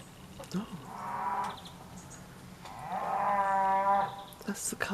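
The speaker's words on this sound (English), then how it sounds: "That's the cows. The cows are on the field next door, over to the right of me." Cattle lowing from the field next door off to one side, two long drawn-out moos, the second louder and fuller, carried across open farmland with faint rustling between them.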